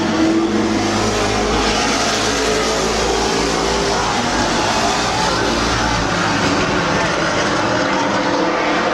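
Race cars roar around Midvale Speedway in a continuous loud, dense engine drone, with several cars revving together at close range and no break for the whole stretch.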